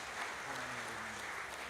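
Audience applause at an HKBP church Christmas celebration for the elderly, a steady wash of clapping filling the hall throughout, with faint voices murmuring underneath.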